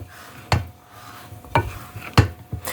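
A spoon stirs cornbread stuffing mixture in a bowl for a Southern holiday dressing, giving four distinct scraping, squelching strokes at uneven intervals, close and fairly clear, with no talking.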